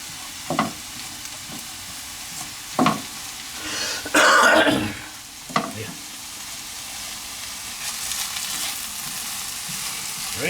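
Two kinds of mushrooms fry in a pan for Chinese cooking, a soft hiss under a few sharp utensil clacks and a louder burst of sizzling and stirring midway, nearby with no voices.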